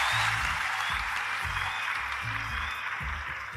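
Steady applause from a television talent-show studio audience, a continuous wash of clapping heard at a moderate distance with low murmurs underneath.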